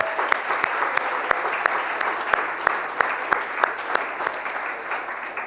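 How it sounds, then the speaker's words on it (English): Audience applause at the launch of London Tech Week 2018 in a large hall, a sustained wash of clapping with sharp individual claps popping out, holding steady and loud before starting to thin at the end. "Let's give them a big round of applause"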